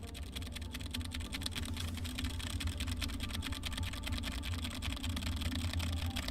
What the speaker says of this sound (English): let's do a quick keyboard test with my keyboard directly behind the microphone